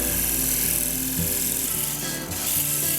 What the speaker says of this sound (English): I switch over to my negative rake scraper